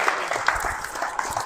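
An audience at a Birmingham market update panel event claps loudly for a panelist in a short, dense burst of hands that carries straight through.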